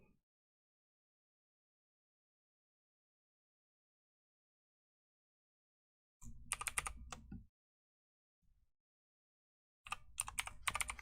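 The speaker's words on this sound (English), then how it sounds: "I am working on getting a quieter keyboard, because I realize that sometimes my mechanical keys that I love so much" Two bursts of fast, dense keystrokes on a mechanical computer keyboard, heard alone against silence, with a single faint key tap between them; the clacking is loud and close.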